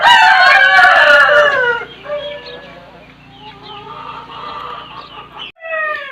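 A rooster blind in one eye crows loudly up close in a shed, followed by softer clucking and calls from other birds, with a brief final squawk.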